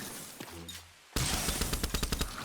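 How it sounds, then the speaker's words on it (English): A video game explosion bursts in after a brief lull, followed by a dense rapid train of loud blasts and crackling impacts that keep going to the end. "Oh, that explosion is just so satisfying, isn't it? Boom."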